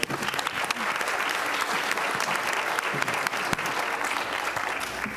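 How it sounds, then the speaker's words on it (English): Steady applause from a crowd at a high school community forum, a dense patter of many hands clapping without pause throughout. "Can we give them a round of applause one more time, please?"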